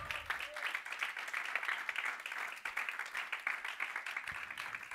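A church congregation claps its hands in praise during a service. Dense, rapid, continuous clapping fills the space at moderate distance, with a voice faintly present at the start.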